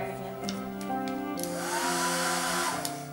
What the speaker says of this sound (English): Okay, and then blow dry it again.